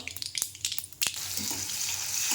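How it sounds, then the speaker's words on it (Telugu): Green chillies, onions and curry leaves fried in hot oil, a few quick clattering stirs followed by a steady close hiss of sizzling, loud and with no voices. "మిర్చి మంచిగా ఫ్రై కావాలి ఆనియన్స్ కళ్యామాకు అవి ఫ్రై అయినంత వరకు"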